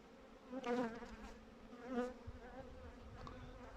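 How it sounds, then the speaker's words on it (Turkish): Honeybees buzzing inside a hive during winter feeding with sugar candy, a close, steady droning hum that swells twice, loudest near the start and again midway, with no talking. "Şöyle içinde göstereyim bir arıları."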